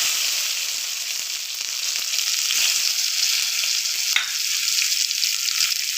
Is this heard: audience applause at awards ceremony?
no